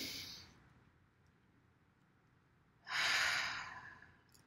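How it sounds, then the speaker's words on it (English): A group breathes deeply together, a soft breath at the start, a quiet pause, then a louder, longer whooshing exhale near the end. "Let's all breathe together."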